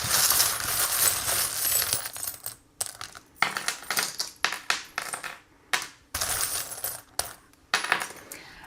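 Small metal charms cast for a tarot reading clatter and clink in a series of short bursts separated by brief pauses, close and fairly loud, with no talking.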